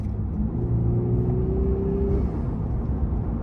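A Lexus IS200t turbo engine fitted with an Injen cold air intake hums and whirs steadily from close by, a smooth rising drone and slight rev that then settles into a constant rumble.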